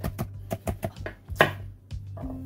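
A knife slices Cheongyang chili peppers on a cutting board in about nine quick, crisp chops, close and clear with short pauses between strokes.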